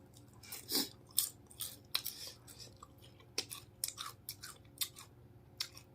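Close-up chewing of a crunchy fresh shrimp salad with crisp bitter gourd: irregular, sharp crunches and bites in quick bursts against a quiet background, with no talking.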